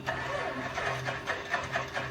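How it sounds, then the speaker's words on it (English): Left engine of an aircraft starting up in Microsoft Flight Simulator, a low rumbling engine with a rhythmic pulsing chug as it catches, moderately quiet with a voice over it. "Starting that left engine first."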